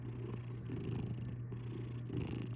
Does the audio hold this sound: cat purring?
yes